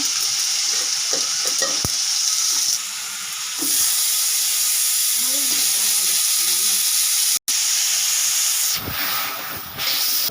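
Mustard seeds, bay leaf and chili sizzle steadily in hot oil, a loud continuous frying hiss with stirring scrapes and brief pops, broken by a short pause and a sharp clatter near the end.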